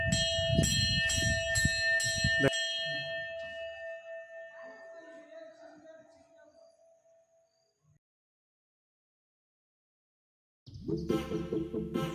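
A temple bell rings out with rapid repeated strikes and a long sustained ringing tone that slowly fades, followed by several seconds of quiet before more clanging strikes resume near the end.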